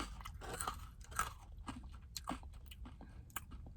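Crunchy Cane's fries are bitten and chewed close to the mic, with several sharp crisp crunches in quick irregular succession and no talking.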